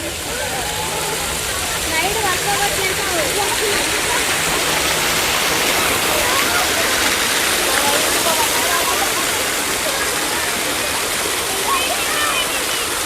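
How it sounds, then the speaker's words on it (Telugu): A water fountain at NTR Garden, Hyderabad, on a busy Sunday, its continuous loud rush and splash filling the scene evenly, with faint crowd murmur beneath. "వాటర్ ఫౌంటైన్ చూడండి ఎంత బాగుందో."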